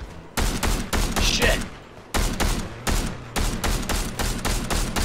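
Fortnite gunfire comes as loud, rapid bursts of automatic fire in close, repeated volleys separated by short pauses, with a brief voice heard between them.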